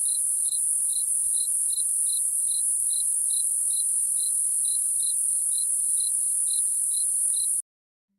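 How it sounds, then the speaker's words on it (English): Crickets chirp in a steady, regular pulse of bright, high trills over a constant shrill insect drone, loud and close, then cut off abruptly near the end. "It be crickets."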